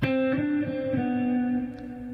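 An electric guitar with distortion plays a sixteenth-note exercise. A quick burst of picked notes settles onto a sustained, ringing tone that fades slightly. It is close and alone, with no talking.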